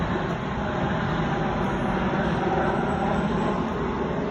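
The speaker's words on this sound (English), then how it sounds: "Let this plane go over." An airplane passes overhead outdoors as a broad, steady roar that holds at a constant level throughout, with no speech.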